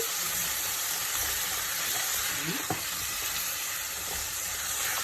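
Vegetables stir-frying for sweet and sour chicken, a dense continuous sizzle filling the pan close up, with faint scrapes of tossing underneath.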